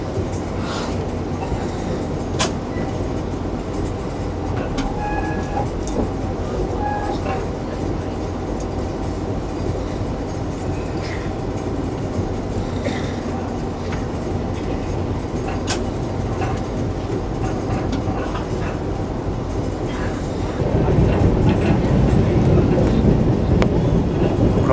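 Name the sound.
train entering railway station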